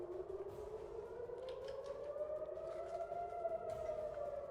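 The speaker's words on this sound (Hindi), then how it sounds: "तो सायरन बज गई है।" A civil defense siren warning of missile attack wails steadily in the distance, its pitch slowly rising and falling over a low outdoor rumble.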